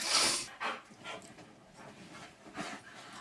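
An 84-pound pet puppy pants and whimpers up close, bursts of breathy huffs and soft whines scattered unevenly across a few seconds.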